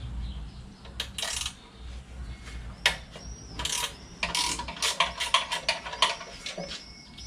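A wrench works a bolt on a Honda GX160 small engine, giving close metallic clinks, ratcheting clicks and tool taps in irregular bursts, louder and quicker toward the end, with no talking.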